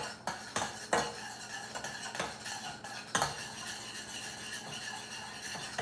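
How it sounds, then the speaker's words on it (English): A utensil stirs and scrapes steadily around a pan of raspberry cheesecake sauce with vanilla and lemon, repeated clinks and scrapes close and continuous, with no talking. "Now we gotta keep stirring. I don't want that to burn."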